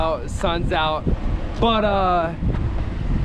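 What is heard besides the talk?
wind blowing outdoors by a river, wind noise on the microphone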